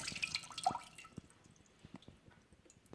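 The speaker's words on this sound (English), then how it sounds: "Add some water to just cover the leaves and to make it easier to pour them to their doom." Water poured over chopped poinsettia leaves in a kitchen, heard as faint, scattered drips and soft splashes that fade into a quiet trickle.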